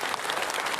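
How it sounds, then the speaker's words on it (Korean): Dense, steady audience applause at a literary award ceremony, many hands clapping at once in a short, full burst without speech. "여러분 큰 박수"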